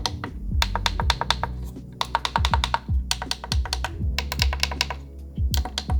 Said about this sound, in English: they have a firm and noticeable click with a clicking noise to match